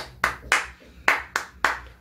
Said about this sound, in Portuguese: Batam palmas outra vez.